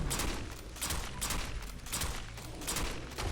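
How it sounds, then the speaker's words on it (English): Rapid rifle fire from a Winchester Model 1895 in Fallout 4, a dense, continuous fusillade of overlapping shots with regular bursts, loud and close, with no talk. "And look how fast this thing can fire."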